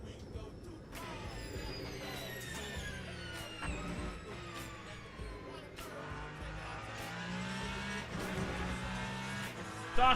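Hypercars racing at Le Mans in the racing sim Le Mans Ultimate, engines whining and shifting through gears with rising and falling pitch and occasional tyre squeal, someone talking over the steady racing noise.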